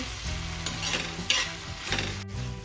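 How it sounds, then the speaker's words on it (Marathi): Cashews and marking-nut kernels sautéing in a pan with onion and tomato for chicken khaliya, giving a continuous close sizzle with a few stirring scrapes, no voices. "काजू आणि बिब्याची गोडुंबी पण छान परतून घ्यायची आहे एक मिनिटासाठी"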